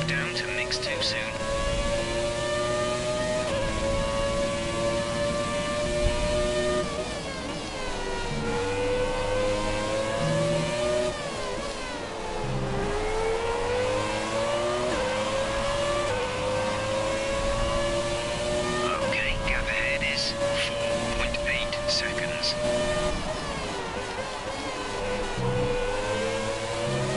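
Formula Williams racing car engine in a sim racing game, a loud continuous high-pitched whine that rises and falls with gear changes and throttle through the lap, with a voice talking over it.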